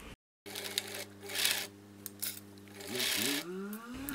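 A sewing machine runs along the side seams of a knit halter top, a steady mechanical hum with a rising and falling pitch toward the end, close by and fairly quiet.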